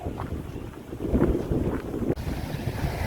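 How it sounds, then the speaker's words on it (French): Wind buffets a microphone in steady low rumbling gusts, with a brief sharp dip partway through and no voices. "dès que je serai abrité du vent, qui est franchement pénible depuis ce matin"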